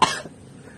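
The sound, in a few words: coughing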